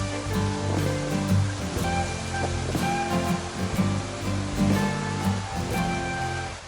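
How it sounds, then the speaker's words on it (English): Strong gusty wind roars steadily outside a hotel in Kuala Belait, Brunei, a broad continuous rushing that swells and eases slightly, with no voices. "there is a gusty winds outside now."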